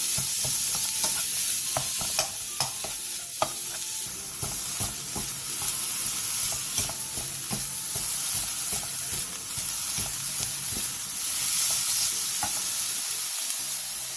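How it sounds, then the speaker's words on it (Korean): Marinated beef stir-fries in a pan over high heat, a steady loud sizzle and hiss running throughout, broken by frequent scraping and clicking stirring strokes up close, with no talking. "불에서 볶아주세요."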